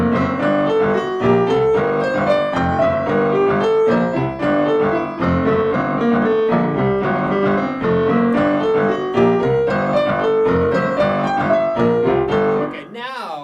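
A piano plays a Mission Impossible arrangement with the melody in straight, evenly spaced quarter notes over full chords, continuous and loud for the whole stretch with no talking.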